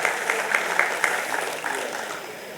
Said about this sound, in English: Can we have a huge round of applause for Pradeep Kumar Das, sir?